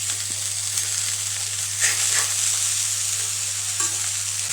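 Jackfruit seeds and red spinach stir-fried in a pan, giving a steady hiss of frying under a low constant hum, with a few soft scraping stirs, close and even throughout.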